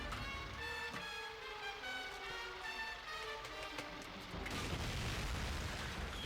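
Tank explosions in the WWII shooter game Call of Duty: Finest Hour: a heavy, wide blast erupts near the end over a steady bed of game music and battle noise, with no talk.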